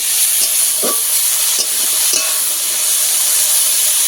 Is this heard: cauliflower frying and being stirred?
yes